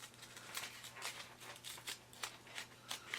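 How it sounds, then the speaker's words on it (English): Quiet, close snips of small scissors cutting around the ears of a cat shape in quilt block fabric, a steady series of soft crisp cuts over faint background hum. "let's do the smaller scissors around the ears"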